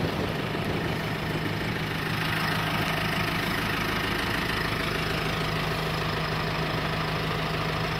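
A tractor engine drives horizontal drilling work, running loud and steady with a continuous low rumble throughout, close by and without talking.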